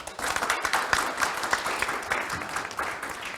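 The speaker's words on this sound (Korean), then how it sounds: "큰 박수로." Brief applause from attendees closing a Daedeok Innopolis forum, a short burst of clapping from a modest audience in a hall, fairly even and moderately loud.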